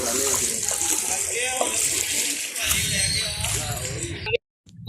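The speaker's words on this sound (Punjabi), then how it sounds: "ਪਾਣੀ ਚ ਕਰੰਟ ਤੇ ਇਹ ਥੋੜਾ ਨਹੀਂ ਪਾਣੀ ਬਹੁਤ ਆ" Floodwater about four feet deep flowing through a government hospital in Begowal, a steady broad rushing wash with voices talking over it, briefly cutting out near the end.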